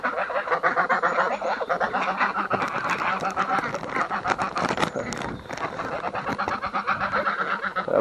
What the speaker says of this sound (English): I think the ducks recognize the watermelon